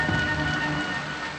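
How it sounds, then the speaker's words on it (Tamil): Heavy rain pours down in a steady, dense hiss on a highway at night, close and continuous, with no voices over it. "மழை வேற அதிகமாகுது"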